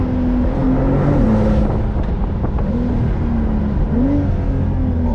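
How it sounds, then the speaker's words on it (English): A Brabus-tuned 820 hp Porsche 911 Turbo S drives along, its engine a loud, steady low drone from inside the cabin with slight rises and falls in pitch as it pulls, no speech. "How do you like the drive inside the Porsche Turbo S?"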